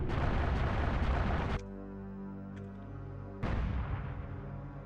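Punic-class supercarrier turrets in Halo Reach fire in heavy, booming volleys: a long roaring blast, a short lull filled with low humming tones, then another loud burst that trails off.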